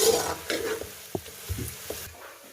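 Onions cooking in a pot toward light brown, a soft sizzle broken by intermittent knocks and scrapes of a spoon stirring, fairly quiet and close.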